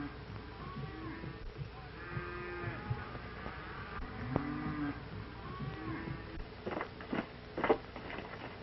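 Cattle low with several drawn-out moos, some fading and some closer, followed by a few sharp clattering knocks near the end, all set in a 1941 western film soundtrack.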